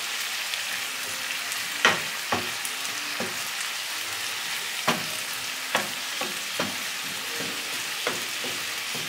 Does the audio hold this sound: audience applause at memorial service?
no